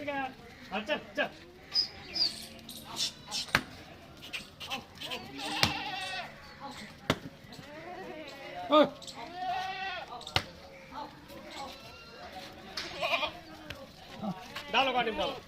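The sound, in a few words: goats bleating at a goat farm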